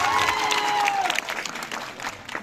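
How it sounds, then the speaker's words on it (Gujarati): An audience claps in sustained applause at a village gathering, a dense steady patter of many hands with a faint tone and crowd murmur underneath. "સાહેબ માટે જબરજસ્ત તાળીઓનો વરસાદ થઈ જાય"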